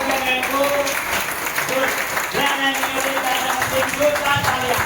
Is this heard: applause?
yes